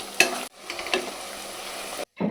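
Onions frying in hot oil for mutton biryani beresta, a steady close broadband sizzle with a few stirring scrapes, briefly cut off twice by edits.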